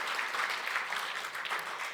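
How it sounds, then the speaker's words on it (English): Audience applause at a club presidential inauguration, a steady wash of many hands clapping throughout, fairly dense and even with no pauses. "Let's give these individuals another round of applause"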